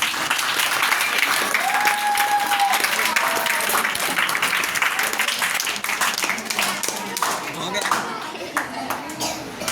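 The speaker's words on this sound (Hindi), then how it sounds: "तो अगर समझ गए तो ताली बजा दीजिए भाई" Audience applause fills the room, a dense, steady wash of many hands clapping at close range for the full stretch, with faint crowd voices and a few scattered shouts mixed in.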